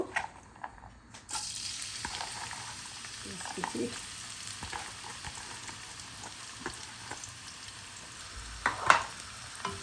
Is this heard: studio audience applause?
no